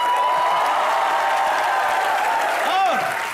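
Loud, dense studio audience applause on a TV comedy show fills the clip, a continuous wash of clapping with a brief voice near the end.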